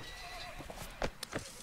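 A horse in the video game Mount and Blade: Napoleonic Wars whinnies briefly amid a few hoof clops, fairly quiet against a steady background hum.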